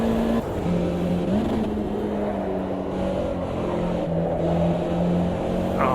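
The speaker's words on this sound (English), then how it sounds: "Oh, this car is amazing. The Lancer R." Engine of a Lancer R car in a racing video game, a steady droning motor note that shifts pitch slightly as it revs and holds, close and continuous with no talk.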